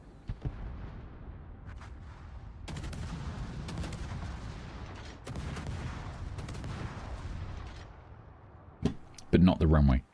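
Ship gunfire in World of Warships, heavy booming salvos rolling over a constant low engine rumble, with a few sharp louder blasts near the end.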